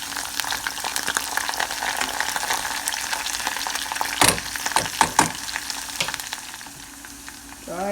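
Garlic frying in oil for a traditional Mangalore mango pickle, a continuous close sizzle with repeated scraping stirs and a few louder clanks of the spoon against the pan, with no talk.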